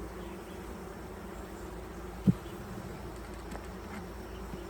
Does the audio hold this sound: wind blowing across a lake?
no